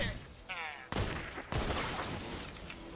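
Gunfire in the Fortnite game mode Save the World, heard as a dense burst of broadband shots with sharp reports near one and 1.5 seconds, continuing as a steady rattling barrage, with a faint voice underneath.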